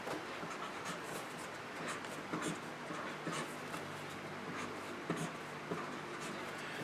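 A pen scratches across paper in short, close strokes, faint and steady with small bursts of scribbling.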